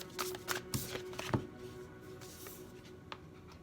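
Tarot cards are shuffled by hand in a few soft, quick riffling bursts, faint and close, with quiet pauses between.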